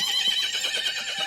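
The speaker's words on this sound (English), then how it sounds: "We know it as the horse." A horse whinnies in one high, wavering, quavering call that lasts the whole moment, fairly loud and close, with no voices.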